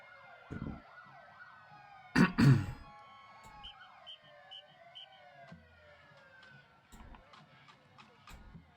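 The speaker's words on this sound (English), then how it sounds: "They're in competition with the sirens." Wailing emergency sirens sweep up and down at a public parade, layered and moderately distant, with a few sharp nearby knocks and voices talking over them.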